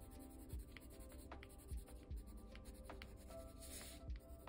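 A colored pencil works across toned paper in close, quiet scratchy strokes, with soft irregular scraping and small taps as the tip moves and lifts.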